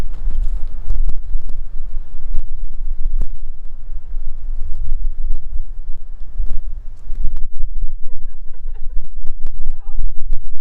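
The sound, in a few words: wind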